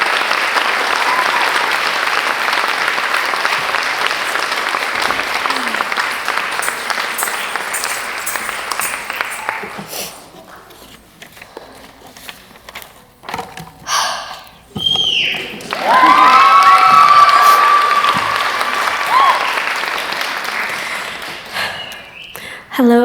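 Audience applause at the close of a Bharatanatyam-style Ranga Pravesha dance debut, a broad steady clatter of many hands that fades out midway, followed by scattered noises and a renewed burst of clapping.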